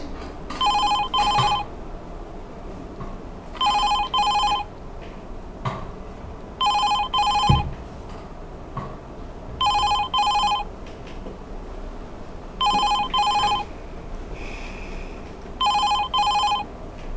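A telephone rings in a regular pattern, six double-burst electronic rings spaced about three seconds apart, fairly clear against quiet background noise, with no talking.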